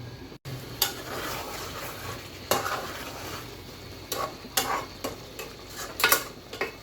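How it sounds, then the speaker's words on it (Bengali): Chicken for chilli chicken is turned in a pan, with soft scraping strokes and occasional spatula knocks over a quiet, low sizzle, fairly close and unhurried. "মাঝে মাঝে একটু নেড়ে চেড়ে দিচ্ছি যাতে তলায় না লেগে যায়"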